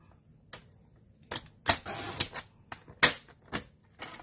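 Glitter paper being cut with a paper trimmer or blade, a series of sharp clicks and snaps with one longer rasping slice, close and isolated against near silence.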